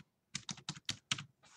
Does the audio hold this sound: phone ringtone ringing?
no